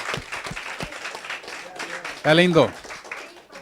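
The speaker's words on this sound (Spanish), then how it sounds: "Dale un aplauso" Congregation applause during a church discipleship class, a dense patter of clapping mixed with a voice speaking over it and a louder voiced exclamation near the end.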